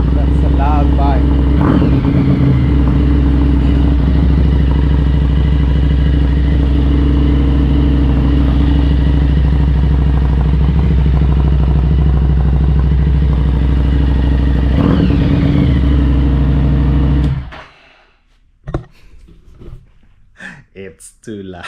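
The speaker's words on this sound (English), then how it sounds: "That's a loud bike." A loud motorcycle engine runs steadily close by for about seventeen seconds, with a couple of brief revs, then cuts off abruptly. Scattered clatter and faint sounds follow in the quiet.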